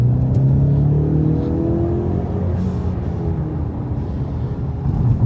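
A 2018 Ford Mustang EcoBoost with a 310-horsepower four-cylinder engine drones steadily from inside while driving at night, a loud low hum with a slight rise in pitch and no talk over it.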